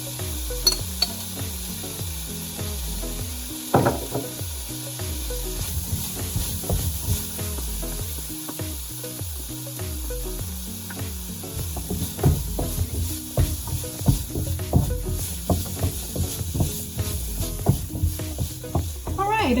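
Curry paste sizzling and frying in a pan while being stirred for a vegan dish, a continuous close hiss broken by frequent scraping and tapping strokes throughout.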